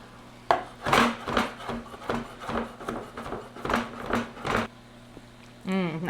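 A chef's knife chops food for a healthy pizza casserole, about a dozen crisp rhythmic knocks on a board, close and fairly loud, ending with a short burst of voice.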